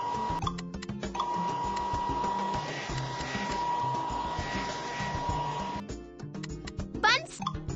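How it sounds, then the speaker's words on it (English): A steady whirring blow dryer drones under bright game music and chimes in a PAW Patrol dress-up game, cutting off near the end as playful sound effects take over. "Blow dryer!"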